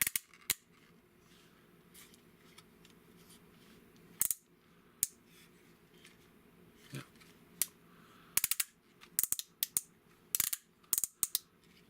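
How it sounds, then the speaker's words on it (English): Ratchet joints on a Unique Toys Archimonde (Brawl) Transformers figure click in scattered sharp bursts, single snaps and quick clustered runs, close and crisp over quiet room tone. "The way the ratchet sounded,"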